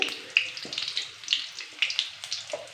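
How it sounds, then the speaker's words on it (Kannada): Garlic cloves and cumin seeds frying in oil in a pan, a light close crackle and sputter with small bursts, fairly steady over a short stretch. "ಒಂದು ಐದಾರು ಬೆಳ್ಳುಳ್ಳಿ ಹಾಕ್ಕೊಂಡು ಎಣ್ಣೆಯಲ್ಲಿ ಫ್ರೈ ಮಾಡಿ ಎಣ್ಣೆಯಲ್ಲಿ ಚೆನ್ನಾಗಿ ಫ್ರೈ ಆಗಬೇಕು ಬೆಳ್ಳುಳ್ಳಿ"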